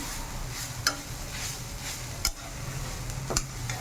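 A radish paratha filling mixture is stirred in a pan, giving a soft steady scraping with a few sharper clinks from the spoon against the pan, close and fairly quiet, with no talking.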